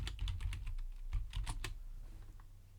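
Rapid keystrokes on a computer keyboard while text is entered during a Canva planner page design, close and crisp, a quick burst of uneven clicks with no voices.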